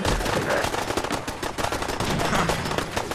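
Sustained gunfire crackles through a firefight in Fallout 4, dense rapid bursts of shots filling the whole stretch with no pauses and no talk.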